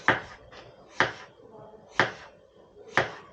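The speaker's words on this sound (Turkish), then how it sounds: "Patateslerimizi ince ince kesiyoruz" A knife slices thinly through potatoes on a board in four evenly spaced, crisp cuts about a second apart, close and clear, with a faint lighter tap between the first two.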